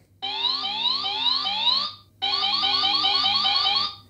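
Alarm of a Tesla carbon e-bike: two loud bursts of rising, repeating electronic chirps, each about two seconds long and separated by a brief gap, heard alone and close.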